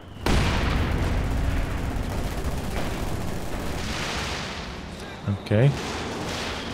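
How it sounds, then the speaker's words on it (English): Artillery strike in Company of Heroes 2, a dense rumble of shell impacts and booms rolling on continuously, fairly loud, with a couple of sharper blasts near the end and a brief spoken word. "that artillery strike from Firestorm Commander"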